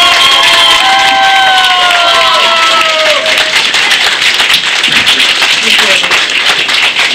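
Loud clapping and cheering from a crowd at a carnival-season gathering of a women's association and seniors' club, with whistles or shouts early on and voices mixed into the dense applause.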